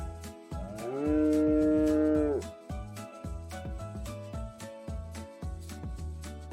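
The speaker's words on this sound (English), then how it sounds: "Now a cow." A single long, low cow moo sounds over a rhythmic musical backing that continues after it fades.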